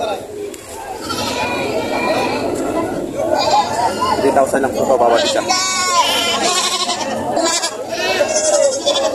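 Goats and kids bleat repeatedly at a livestock market in Padre Garcia, Batangas, loud and close amid lively crowd chatter, while a person talks over the animals.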